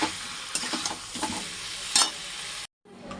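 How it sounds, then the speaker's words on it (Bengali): Meat with potatoes and spices sizzles loudly in a pan while being stirred with repeated scraping strokes, then cuts off abruptly and resumes briefly. "দিয়ে একসঙ্গে এখন মাংসটাকে কষিয়ে নিচ্ছি"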